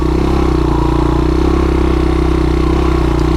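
Honda ATV engine running steadily up close, a loud even mechanical chug with rhythmic clatter that holds constant with no clear gear change.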